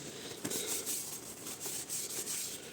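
A blade is sharpened on whetstones such as Washita, Dalmore Blue, Llyn Idwal and Yellow Lake. Steady, close rubbing strokes repeat in an even back-and-forth rhythm.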